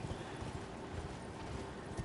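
Horse hooves clip-clopping in the video game Elden Ring, a faint, even run of quick hoofbeats under a soft background wash.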